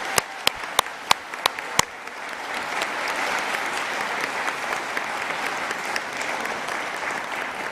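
Graduation ceremony crowd at West Lothian College, 2024, applauding college staff: a few sharp near claps open, then dense sustained applause from a large audience fills the hall.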